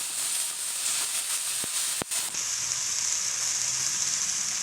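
Onions and chopped tomatoes sauté in a hot pan for ulunthu (urad dal) chutney, giving a steady close sizzle and hiss with a couple of sharp clicks partway through.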